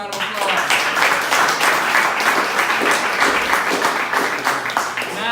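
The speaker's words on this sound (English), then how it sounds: "let's give him another round of applause." An audience claps and applauds steadily for the whole stretch at a community political meeting, dense and fairly close, with a voice speaking over it.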